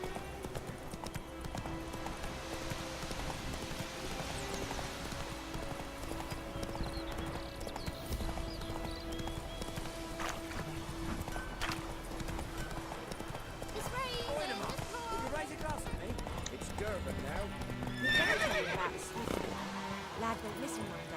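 Hooves clip-clop steadily from a horse galloping in The Witcher 3: Wild Hunt, running continuously under game music and talking, with a horse whinny briefly near the end.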